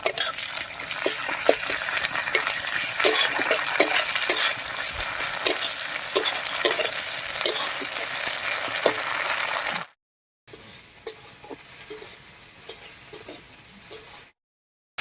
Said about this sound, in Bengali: মশলাগুলো দিয়ে একটু নাড়িয়ে নিয়েছি